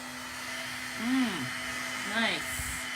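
A heat gun or hair dryer warming a workpiece in a workshop gives a steady whirring blower hum with a constant tone throughout. Voices briefly speak over it twice.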